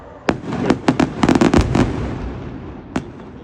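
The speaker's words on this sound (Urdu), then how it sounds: "یہ دھماکے، پتہ نہیں آپ کا آواز کیسی آ رہی ہے، لیکن کافی" Outdoor explosions in Islamabad, a string of sharp booming blasts in a rapid irregular burst, then one more bang after a pause, echoing over a quiet background.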